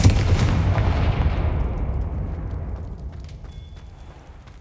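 The Confringo fire spell exploding in the Hogwarts Legacy video game, a loud booming blast that rumbles and slowly fades away over several seconds.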